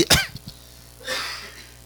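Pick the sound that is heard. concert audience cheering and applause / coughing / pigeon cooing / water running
coughing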